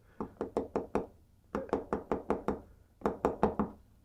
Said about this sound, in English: This is a hammer I made over on my lathe with a plastic side on it so that I can kind of bonk it and get it back to round.